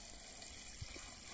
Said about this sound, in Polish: Teraz zalewamy wodą, tak by żywokos był w pełni namoczony.